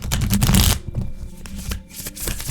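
Tarot cards riffle-shuffled close by in a loud burst, then softer flicks and taps as the deck is squared and shuffled again.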